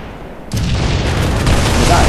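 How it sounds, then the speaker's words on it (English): A single loud shotgun blast in Halo 3, bursting in abruptly after a quiet moment, followed by a long, broad roar of game noise with no pause. "That is a shotgun."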